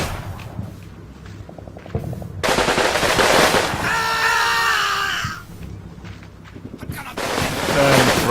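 Bursts of PPSh submachine gun fire in the wartime strategy game Combat Mission Red Thunder, rapid rattling volleys in a wooded close-quarters battle, with shouting and other battlefield noise between bursts.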